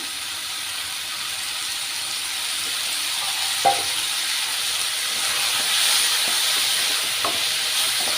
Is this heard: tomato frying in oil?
yes